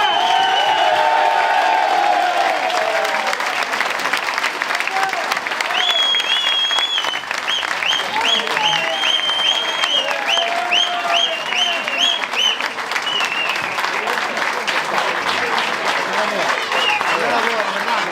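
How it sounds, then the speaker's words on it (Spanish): A crowd gives sustained applause for a prize winner at an international dog tracking trial awards ceremony, steady clapping that carries on throughout while people talk and a whistle-like tone sounds over it. "este grandísimo aplauso para Manuel"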